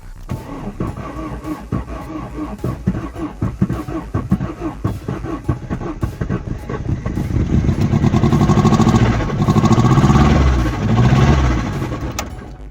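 A car engine without oil pressure runs with a heavy, rhythmic metallic knocking that keeps time with its revs, growing louder and rougher as it speeds up midway.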